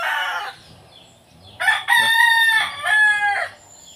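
A fighting rooster crows loudly and close by, one long strained call, preceded by a brief squawk.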